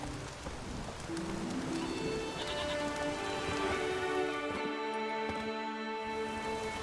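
Steady rain falls in The Witcher 3, a constant wash of hiss filling the scene, with tonal music and a faint animal bleat drifting through near the middle.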